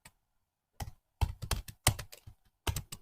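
Typing on a computer keyboard, several short bursts of close, crisp key clicks separated by brief pauses, with no talking.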